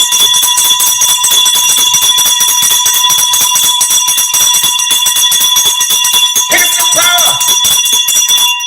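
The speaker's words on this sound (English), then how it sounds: "I love how this bell is tuning up as the day goes by." A bell in a boxing ring rings fast and without pause, a loud, bright, metallic clang repeated steadily throughout with a sustained high pitch, as a voice talks briefly underneath near the end.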